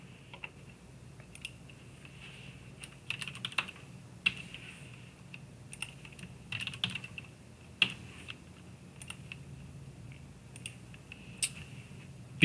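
Steady typing on a computer keyboard while entering patient details into a lab requisition form, with irregular bursts of close, light key clicks over a low background hum and no talk.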